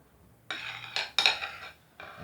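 A spoon scraping and clattering against a bowl while stirring runny frosting made without sugar, four close bursts of metallic scraping separated by brief pauses.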